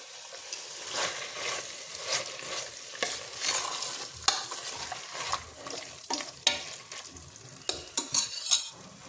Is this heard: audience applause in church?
no